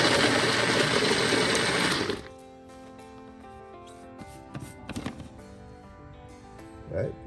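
A blender chops Jamaican jerk seasoning ingredients with vinegar, a loud dense whir for about two seconds that stops abruptly, followed by quiet clinks and handling sounds.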